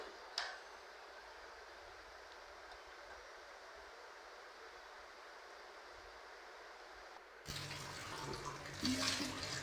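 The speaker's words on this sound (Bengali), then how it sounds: "এখন কাপ কাপ পিরিচ বা ই যা হয়েছে ওগুলো ধুয়ে নিচ্ছি" After a long hush, running tap water suddenly gushes as cups and saucers are washed at a kitchen sink, a close steady splash with a few clinks lasting the final couple of seconds.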